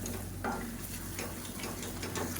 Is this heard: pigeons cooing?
no